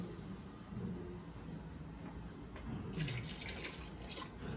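Water poured from a tap into a pot of chicken egg noodle soup, a continuous splashing run with brighter trickling toward the end, fairly close and with no voices.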